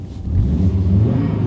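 An Audi RS2 launches with the clutch engaged at 3000 rpm, giving a short, loud, close engine rumble and roar.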